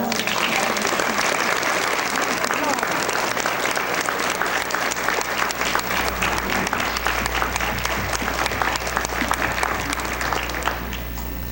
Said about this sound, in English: I think we owe Gladys a great round of applause